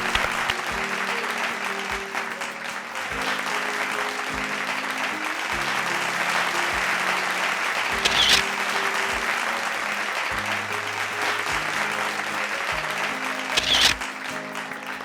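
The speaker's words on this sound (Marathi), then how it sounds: "जोरदार टाळ्या झाला पाहिजे दोन्ही विजेत्यांसाठी" Applause from a stage show audience for two competition winners, sustained clapping with cheers and music playing underneath, swelling in brief bursts.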